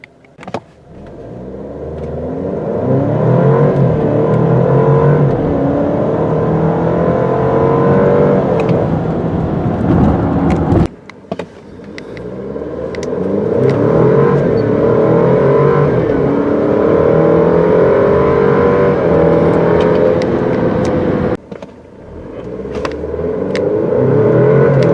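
A 2018 Alfa Romeo Stelvio accelerating from 0 to 60 heard from inside the cabin, its engine climbing through several gear changes with brief dips between, a loud sustained rising drone and no talking.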